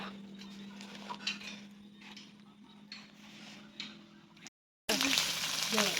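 Bacon and mushrooms sizzle on a Thai mookata grill pan, a soft steady frying hiss with faint clicks and scrapes, then a brief cut and a louder burst of sizzling.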